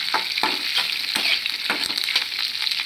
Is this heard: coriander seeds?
yes